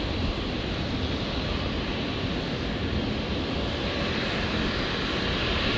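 An airliner takes off at Brisbane airport with a loud, constant broadband jet engine roar filling the whole stretch, heard alone without talking.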